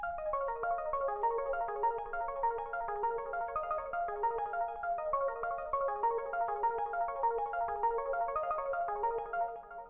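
A synth arpeggio drenched in heavy delay, with rapid repeating notes cycling up and down and echoes smearing into a continuous shimmering pattern, steady and alone.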